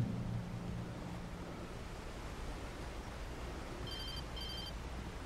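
A telephone ringing inside the Alan Wake video game, two short electronic ring bursts in quick succession, faint and distant over a steady hiss of ambient noise.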